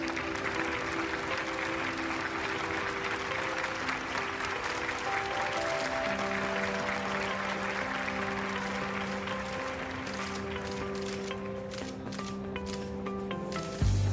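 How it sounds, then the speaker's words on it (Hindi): A stage-event audience greets a speaker being called up with sustained, dense applause, loud and even throughout, with music tones running underneath before the clapping thins toward the end. "जोरदार तालियों से स्वागत कीजिए।"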